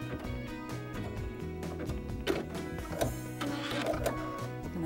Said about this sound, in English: I'll touch my reverse button to activate that tie off and thread cut